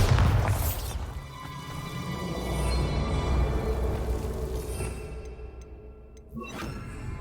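A Bombarda explosion spell blasts in Hogwarts Legacy, a loud low boom with a bright crackling burst at the start, then a long rumbling, ringing decay that swells briefly before a second softer impact near the end, with no talking.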